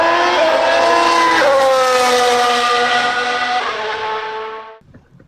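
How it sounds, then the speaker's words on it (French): Formula 1 cars at a race start, engines roaring loud and steady with pitch climbing through gear changes, then cutting off and falling away near the end. "mesdames et messieurs, démarrez vos moteurs"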